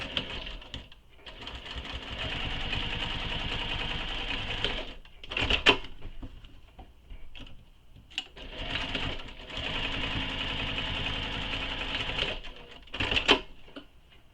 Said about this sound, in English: now we're going to top stitch on either side of the seams